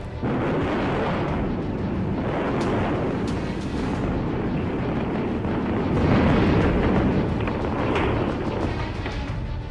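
A massive, sustained roaring blast from the demolition of twin tower buildings in Noida, with rolling rumble and crackling debris, loud and continuous for several seconds with a second swell later.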